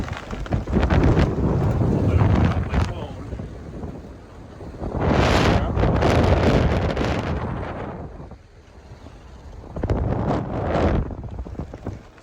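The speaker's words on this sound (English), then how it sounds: "The wind is blowing so hard." Strong wind buffets the microphone at the top of a tower, loud roaring gusts rising and falling in waves with quieter lulls between.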